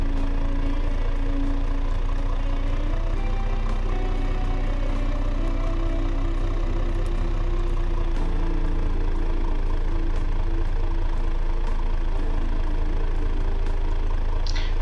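A diesel engine idles in the car-building game Automation, a steady, loud low rumble with a constant chugging pulse and no change in speed throughout.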